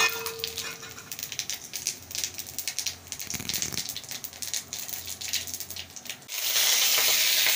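Cumin seeds frying in hot oil in a pan, a steady crackling sizzle with bursts of popping, then a louder hiss rising near the end.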